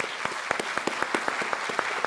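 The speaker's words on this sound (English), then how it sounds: "we can give them a round of applause right now" An audience gives a round of applause, with distinct hand claps ringing out in a quick, fairly regular rhythm, close and clear throughout.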